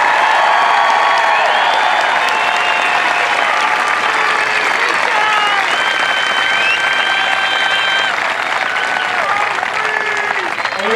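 Sustained crowd applause with cheers and whoops for new airmen at an Air Force Basic Military Training parade, steady and loud across the whole stretch with no pause.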